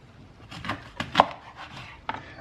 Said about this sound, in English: And then you cut this in half again,